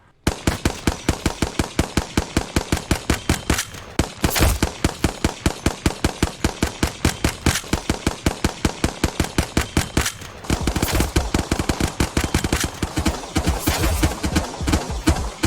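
Rapid-fire shooting in a video game triggered with a paddle controller: a long run of loud, evenly spaced gunshots with a short pause near four seconds, and the pace turns denser and faster for the final stretch.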